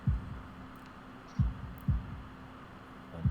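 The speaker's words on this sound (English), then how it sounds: "holding my breath in an attempt to hear my heart beat" Heartbeat sound effect from the visual novel Katawa Shoujo: deep, muffled thumps arriving in slow pairs, loud and close, with a low hum between beats.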